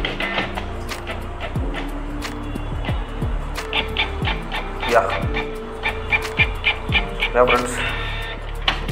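A Canon G-series inkjet printer (G2000/G3000/G4000 family), just cleared of error 5B00, prints a test page with repeated mechanical whirs and falling motor sweeps in a steady cycle. Someone talks briefly over the machine.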